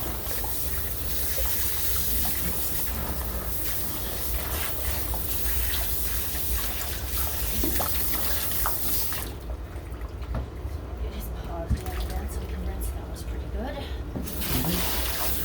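Water from a rinsing spray running steadily over a soaked cat during grooming, a continuous hiss and trickle with faint talk.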